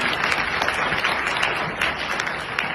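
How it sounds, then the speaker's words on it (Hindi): Loud applause from an audience for a speaker at a Modicare business meeting, a steady wash of many hands clapping, somewhat distant and even throughout. "एक बार समीर सर के लिए हो जाए जोरदार तालियां"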